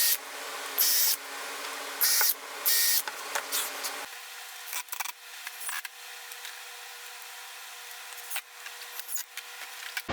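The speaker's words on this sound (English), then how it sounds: "drill a pilot hole." A handheld power drill bores a pilot hole in wood while building a table saw slide, with short bursts of whirring and grinding that start and stop, close by.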